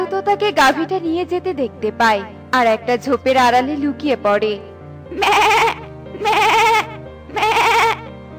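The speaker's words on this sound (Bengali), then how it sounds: "ওই তো সুখীর ছাগলটা ডাকছে" In a Bangla cartoon, a narrator speaks first, then a goat gives three loud, drawn-out bleats in a row, each separated by a short pause.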